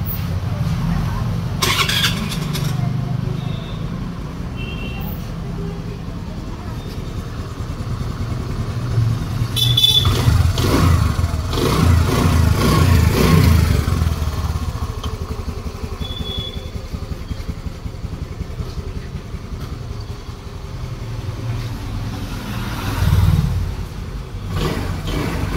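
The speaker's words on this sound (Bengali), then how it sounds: "একবার স্টার্ট করে সাউন্ডটা শুনিয়ে দিচ্ছি।" A Honda Grazia scooter with a freshly rebuilt engine cranks and fires, then runs with a rough, fluctuating mechanical drone amid surging bursts of noise, with voices in the background.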